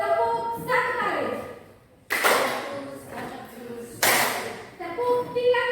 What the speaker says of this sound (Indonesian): tepuk 1 kali.